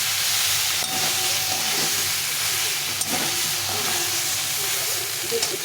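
Potato and fried soybean sizzle in masala in a pan, a steady close hiss with faint crackles running throughout, no voice.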